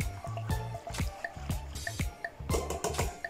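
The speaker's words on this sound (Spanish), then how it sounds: "la vamos a poner aquí en el agua y la vamos a dejar que se vaya disolviendo" Half a bar of soap set into water to dissolve while making liquid rainbow soap, giving soft repeated drips and small liquid splashes at close range, with no talking.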